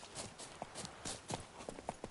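Hooves of Roach, the horse in The Witcher 3, clip-clop in a steady walking rhythm, soft and close, a string of distinct hollow strikes.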